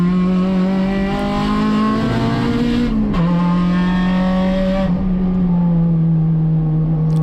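An Acura RSX touring race car lapping Laguna Seca during a USTCC race, its engine droning loud and close in a steady high whine that dips briefly as gears change, with no voices.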